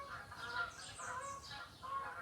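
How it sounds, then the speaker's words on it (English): Geese honk in the distance, a few faint overlapping calls repeating against quiet outdoor background. "I can hear the geese."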